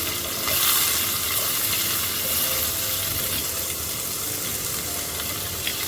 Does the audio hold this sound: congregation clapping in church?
no